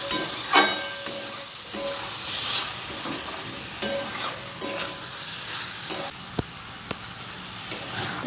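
Tomato and salt frying and being stirred in mutton fat, with a steady sizzle broken by repeated scraping strokes of a spoon against the pan, close and fairly loud, no talking.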